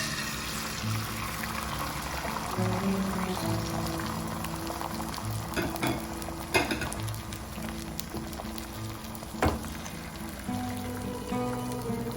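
Egg omelette mixture frying in oil in a frying pan on a stovetop, a continuous soft crackle and bubbling sizzle with occasional sharper pops and clinks, fairly quiet and without speech.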